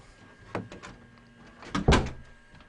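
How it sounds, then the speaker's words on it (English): A door is pulled shut, with a few knocks and rattles of handling and then one loud, close thud as it closes, followed by quiet. "Close this door."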